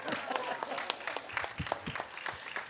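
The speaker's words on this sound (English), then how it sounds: "Let's have another round of applause for the O'Briens and their mom." An audience at a community sing-along gives a round of warm, dense applause. The clapping is steady and fairly close throughout.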